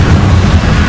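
A short, loud fiery whoosh with a burst of low rumble marks an Incendio fire spell being cast in Hogwarts Legacy.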